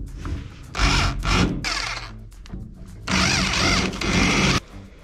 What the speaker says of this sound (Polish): Teraz wiercimy kolejne otwory.